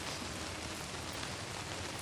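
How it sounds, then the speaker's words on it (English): Steady rain falls outdoors as a dense, even hiss that holds at the same level the whole time, with no voices. "It's still raining."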